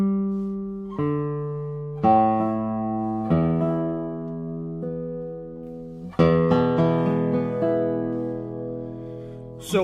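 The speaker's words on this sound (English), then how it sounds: "And just what an incredible guitar. I mean, listen to the sound." Italian handmade cedar-top acoustic guitar played alone, with clear plucked notes and chords ringing out one after another, each sustaining and decaying before the next, in a close, clean recording.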